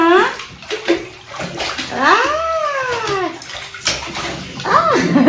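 A child splashes in a bathtub, with water sloshing close and loud throughout. High, sliding squeals and vocal cries rise over the splashing.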